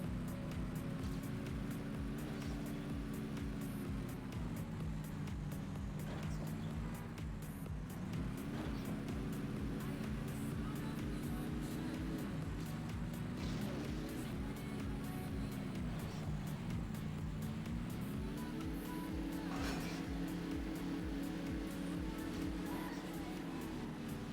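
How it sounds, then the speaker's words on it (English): A racing video game car driving on beach sand, its engine drone steady and loud throughout with rising and falling revs, while a player talks over it. "Oh, you have grip on the sand with this car."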